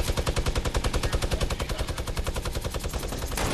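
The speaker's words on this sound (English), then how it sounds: "has a freaking minigun." A minigun in Fortnite fires one rapid, unbroken stream of shots for several seconds, loud and continuous with no pauses, no voices over it.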